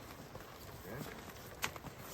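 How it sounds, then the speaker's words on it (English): Hooves of a horse clip-clop at walking pace on an Alaska moose hunt, a few soft irregular strikes close by, faint under ambient outdoor noise. "Just Rob on a horse again."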